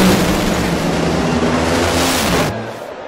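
A drag car engine runs rough at close range, loud and continuous with an uneven, sputtering roar that drops off sharply near the end.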